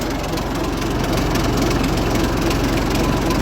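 A cold Renault engine idles steadily at low revs, a deep continuous rumble with a fine regular pulsing and no voices over it.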